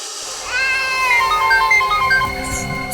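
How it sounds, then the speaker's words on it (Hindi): A mobile phone rings in a dramatic CID crime scene, a warbling electronic melody of rising and falling tones playing loud and continuous for a few seconds, with low background rumble beneath. "एसीपी साहब का फोन।"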